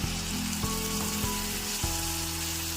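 Ginger garlic paste sizzles steadily in a hot oiled pan for a paneer gravy, a constant close frying hiss with a few faint clinks of a utensil against the pan.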